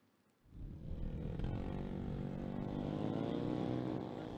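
Motorcycles with loud, noisy exhausts rumble at an illegal street race at the Boyolali regency office complex, a dense engine roar that swells in after a quiet start and holds steady and close.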